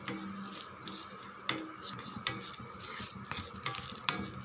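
Two sprigs of curry leaves crackle and sizzle in hot oil in a pan, with steady frying hiss broken by sharp pops and a few utensil scrapes, close and fairly quiet.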